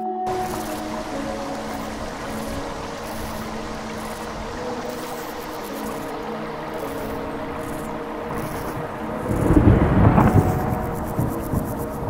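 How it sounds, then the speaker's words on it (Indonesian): Thunder rumbles low and broad over a constant wash of rain or flowing water, swelling into a louder, deeper roll near the end before easing back down. "yang diakhiri dengan suara gemuruh petir"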